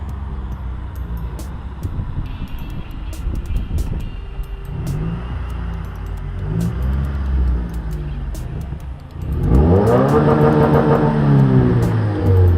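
Subaru WRX with a muffler delete revving hard, its exhaust rumbling and gurgling near and loud, building to a strong rising rev near the end with no talk over it.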